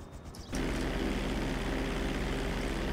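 A propeller plane's engine drones steadily in GTA, kicking in loudly after a brief quieter start and holding a constant, close, rumbling hum with no talk over it.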